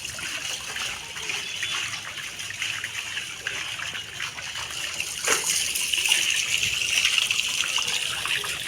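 Rainwater steadily running and trickling during the first rains, collected for washing clothes, a soft continuous flow that grows slightly fuller toward the end.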